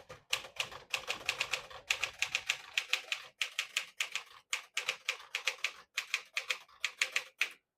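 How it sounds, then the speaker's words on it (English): Keys strike on a 1957 Smith-Corona Silent-Super portable typewriter in quick, crisp bursts, sharp close clacks in uneven rhythmic runs with short pauses between words. "In my opinion, one of the best typewriters ever produced."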